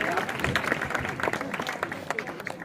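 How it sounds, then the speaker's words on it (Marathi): A crowd at a kabaddi match claps in a loose, scattered patter while a commentator keeps talking over the brief burst of applause. "थंडी उडवायची असेल तर जोरात टाळ्या वाजवा नक्की थंडी उडते"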